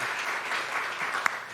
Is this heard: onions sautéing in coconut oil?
no